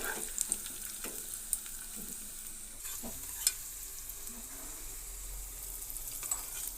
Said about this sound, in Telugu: ఇప్పుడు పోపు దినుసులు పెరుగన్నంలో యాడ్ చేసుకోవాలి